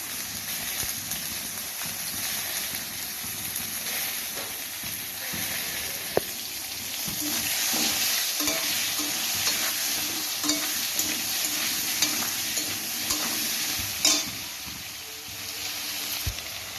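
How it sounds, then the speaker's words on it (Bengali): Potatoes seasoned with salt and turmeric fry in a pan, a steady moderate sizzle with repeated spatula stirring and scraping, plus a few sharper clinks, close and continuous with no talk. "আলুটা ভাজা ভাজা হয়ে গেছে"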